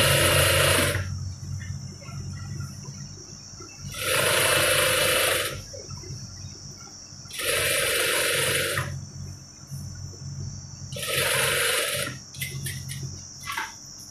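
Sewing machine stitching a bond seam along a pillow cover, in four loud bursts of rapid mechanical whirring lasting about one to two seconds each, separated by pauses filled with a low background hum.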